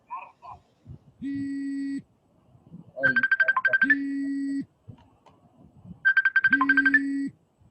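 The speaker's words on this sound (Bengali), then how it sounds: "এই কার ফোন বাজছে?" A mobile phone ringtone plays twice during a lecture, a low tone followed by a quick trilling chime pattern, with faint talk before it starts.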